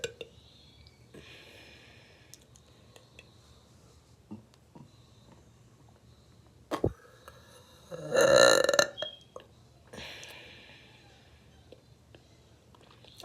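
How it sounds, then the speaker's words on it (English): A woman burps on a burp channel: one long, loud, resonant belch stands out in the middle of a mostly quiet stretch, with small breaths, mouth noises and a few softer gulps around it. "So today I'm gonna be doing burps."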